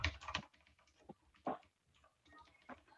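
Computer keyboard typing comes as uneven bursts of clicks and taps, moderately close, with short pauses between bursts and no talk.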